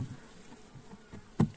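Honey bees buzz steadily at an opened hive during a queen introduction, a continuous close drone with a sharp knock from the frames near the end.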